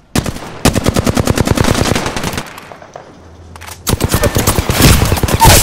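Automatic weapons fire in the battle royale game Apex Legends rattles out in loud rapid bursts, cutting off briefly for a near-silent gap before another heavy volley resumes.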